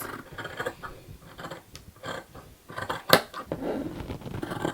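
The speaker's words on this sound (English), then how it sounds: "Now I'm just going to chop my pockets" Scissors snip through soft fabric pants pockets in a series of irregular cuts, close and crisp, with one sharper snip standing out and no talking.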